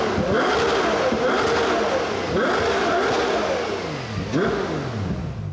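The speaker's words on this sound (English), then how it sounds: "Let's take a listen to a couple of 12-cylinder revs." The naturally aspirated V12 of a Ferrari 12Cilindri is blipped through several sharp revs, each climbing and falling away in quick succession, loud and fairly close, with no one speaking.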